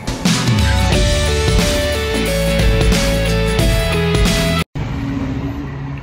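A car passes close by on a street, a loud, steady broadband roar that runs for several seconds before cutting out briefly near the end.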